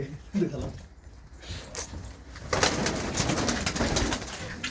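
Sheffield breed pigeons coo in a busy loft, their calls mixed into a steady wash of background noise that grows louder partway through.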